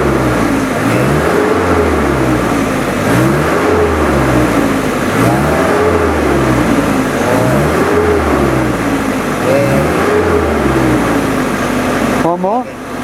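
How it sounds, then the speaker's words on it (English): Car engine revved over and over at a vehicle registration inspection, loud and close, rising and falling in a regular cycle of about six surges over an idling drone, a voice talking underneath. "Got to rev it 6 times."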